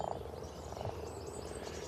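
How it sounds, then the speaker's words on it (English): Frogs croak by a garden pond in early spring, a dense, continuous chorus of low purring croaks, fairly close and with no other sounds over it. "if I sit very quietly by the pond and stop Nigel charging around, you can hear the frogs"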